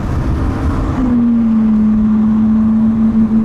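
An Aston Martin DB11 V12 engine droning steadily on a drive, with a strong sustained engine tone that settles in after the first second and holds loud and near, riding over continuous road rumble.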